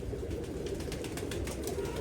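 A pigeon coos softly over a low background rumble, with faint rustling; no one speaks.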